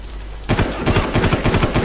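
Rapid automatic gunfire in the Far Cry video game bursts in after a brief quiet moment, a loud, fast stream of close shots continuing to the end.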